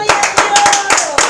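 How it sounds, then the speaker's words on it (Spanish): A church congregation claps together in praise, sharp rhythmic hand claps close by, with a sustained tone and voices in the background. "Dale un fuerte aplauso al Señor"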